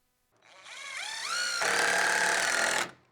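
A power drill drives a screw into wooden shed roof framing, a short whine winding up and then a steady buzzing grind for about two seconds before cutting off, close and alone.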